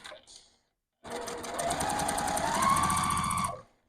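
Close, loud sewing machine running for about two and a half seconds as quilt block pieces are stitched, a fast steady mechanical chatter rising slightly in pitch, preceded by a brief softer noise.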